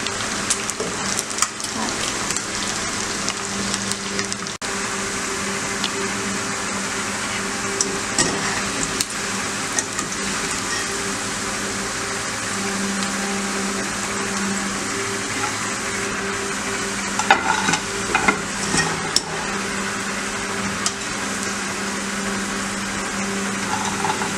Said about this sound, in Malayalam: അപ്പോൾ നമുക്ക് ഈ സൈഡും വറുത്ത് കോരി അടുത്ത മീനും വറുത്ത് കോരാം.